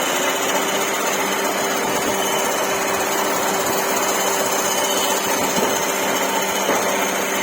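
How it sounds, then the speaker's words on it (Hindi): A car's AC compressor rattles steadily as it runs with the AC switched on, a continuous mechanical whir and clatter under engine hum, close and constant with no speech. "कंप्रेसर में से आवाज़ आनी स्टार्ट हो जाती है।"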